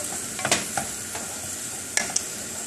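Purslane and eggs cooking in a pan without butter, a soft continuous sizzle with a few sharp scrapes and taps of a utensil against the pan, fairly quiet.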